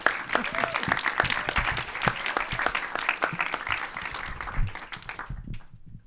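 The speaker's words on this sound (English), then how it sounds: "I would also like to give a big round of applause to your producer who's here but not speaking, Émilie Lesclos" Audience applause at a New York Film Festival screening talk for the producer of Pictures of Ghosts: dense, steady clapping from a crowd that swells briefly near the end, then fades out.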